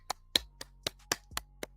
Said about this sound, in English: You get a real applause, not just a fake applause.